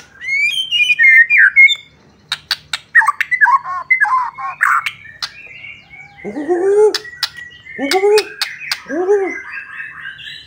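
A white-rumped shama (murai batu) sings close and loud, rich whistled phrases and rapid trills in bursts separated by brief pauses, with a faint low hum beneath.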